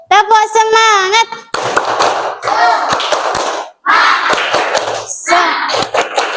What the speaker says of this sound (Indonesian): Kita mungkin tepuk semangat terlebih dahulu ya.